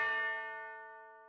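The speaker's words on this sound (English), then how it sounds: "I'm going to get a bell out of here" One clear bell sample strike in FL Studio with a bright, ringing tone that slowly fades away, heard alone.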